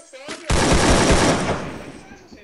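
A loud, rapid burst of automatic gunfire from a game erupts after a brief quieter moment, then trails off into softer noise.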